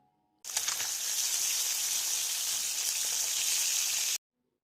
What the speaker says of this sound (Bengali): তারপর আমরা কড়াইয়ের মধ্যে তেল দিয়ে দেব। তেলটা গরম হয়ে গেলে মাছগুলোকে ভাজার জন্য দিয়ে দেব।